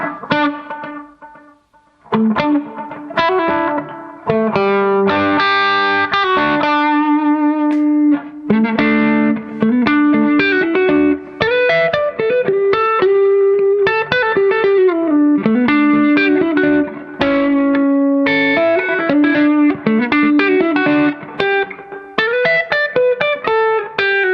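Electric guitar plays a run of melodic notes with a delay effect, each note lingering and repeating softly behind the next, loud and up close.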